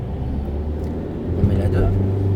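A car pulls away and accelerates during a driving lesson, its engine rumbling low inside the cabin and rising in pitch partway through, while people talk over it.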